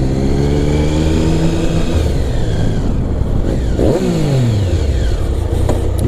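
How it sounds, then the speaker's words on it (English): A Triumph Sprint GT 1050 fitted with a Scorpion Serket exhaust runs loud and close, its engine note rising and falling through revs with a clear pitch sweep partway through, no voices over it. "You can still hear the engine, which is nice."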